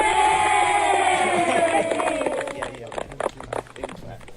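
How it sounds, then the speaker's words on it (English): Kids cheer and shriek loudly at a show, a bright high-pitched burst of young voices that fades over a few seconds into scattered noise and adult talking. "Kids are cheering for you."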